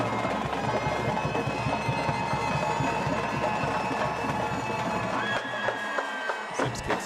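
A crowd cheers at a high school football game at The Woodlands, a broad distant roar that holds steady with a band's high steppers nearby, then briefly thins near the end.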